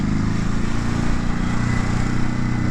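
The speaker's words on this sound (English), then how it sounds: "Great engine there, just to pull the clutch in and let everyone know you're coming." A 2019 Ducati Hypermotard 950 motorcycle engine runs loud and steady close by, a continuous throbbing exhaust rumble with no break.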